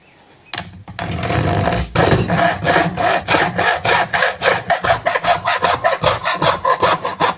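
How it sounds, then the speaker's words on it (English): A hacksaw cuts through a workpiece clamped in a vise while a DIY kayak crate is built. Close, loud back-and-forth strokes repeat in a steady rhythm for several seconds, with no talking. "All right, take this hacksaw."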